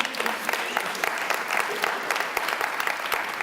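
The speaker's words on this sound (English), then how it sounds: "Those are my Utah guys clapping" Dense, steady applause from an audience fills the room, many hands clapping continuously at an even level throughout with no pauses.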